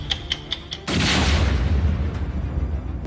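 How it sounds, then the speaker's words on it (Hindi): A car packed with explosives is blown up in a controlled detonation using a 5 kg IED in Kashmir: one sudden loud, deep blast followed by a sustained roaring rumble, after a few faint clicks. "फिर 5 किलो आईईडी लगाकर कार का कंट्रोल धमाका करा दिया गया"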